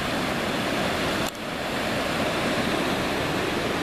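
Elliot Creek rushes beside a mountain trail toward Goat Lake, a loud continuous broadband roar of flowing water with no break.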